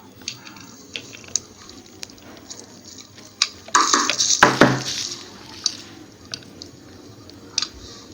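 A wrench works a 13mm nut off a car starter motor that won't crank, giving scattered sharp metallic clicks and clinks, with a louder scraping rattle partway through.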